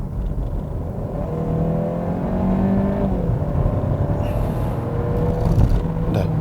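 A Kia Sportage with a 1.6 gasoline turbo engine and seven-speed dual-clutch gearbox accelerates hard, engine note rising steadily with a gear change midway, then climbing again, loud and close.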